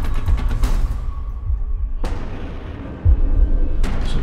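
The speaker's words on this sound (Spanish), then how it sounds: "Una explosión." Explosions near a tunnel, a series of deep, heavy booms with sharp onsets, one about midway and another near the end, over rumbling low noise.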